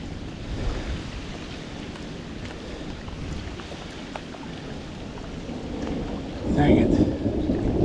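Thunderstorm over a creek in southwest Missouri, with steady rain hissing on the surface and a low rumble of thunder that swells louder near the end; no talking.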